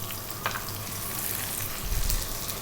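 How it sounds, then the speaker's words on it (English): Onion frying with dried chilies in a pan for spaghetti arrabbiata gives a steady close sizzle and crackle, with a few brief stirring clatters and a louder burst near the end. "To that, we're going to add a cup of onion."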